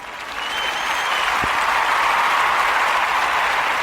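An audience breaks into sustained applause, a dense, steady wash of many hands clapping that swells in the first half-second and holds loud and even throughout.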